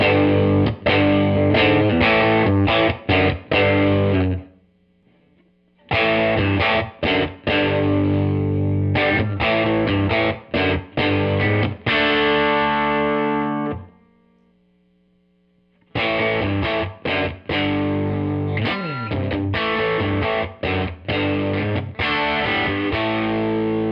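Electric guitar played through a Samamp 23-Verb 1x12 amplifier, loud driven chord strums and riffs in bursts separated by two short silences, no speech.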